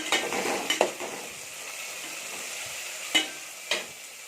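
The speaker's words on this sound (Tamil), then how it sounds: "இப்போ பாருங்கள், கொத்தமல்லி, புதினாவும் வதங்கிடுச்சு." Coriander and mint leaves sautéing with onion and green chilies for a prawn biryani, a constant close sizzle broken by several sharp spoon scrapes against the pan, no talking.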